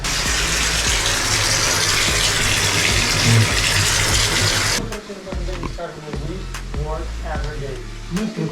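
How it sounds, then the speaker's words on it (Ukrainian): Cold water gushes loudly and steadily into a bathtub for several seconds, then cuts off, leaving quieter sounds and a voice speaking. "набирається повністю ванна холодної води"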